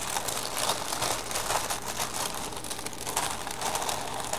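Continuous close crinkling and rustling of thick tissue paper being handled, a dense crackly texture with no pauses.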